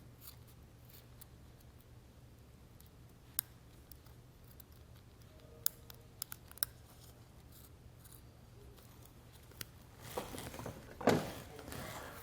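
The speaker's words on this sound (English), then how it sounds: "and then we'll just cut this whole section out" Scissors snip through roll-up tonneau cover material on a 1989 Chevrolet pickup, a few sharp close clicks scattered over quiet room tone, ending in a louder burst of rustling and handling.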